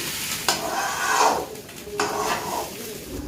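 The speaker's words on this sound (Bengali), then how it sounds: "চাল ডালটা আমার ভাজা হয়ে গেছে" Dry Gobindobhog rice and lentils being stirred and scraped in a hot pan, two distinct rasping strokes with a soft sizzle beneath, close up.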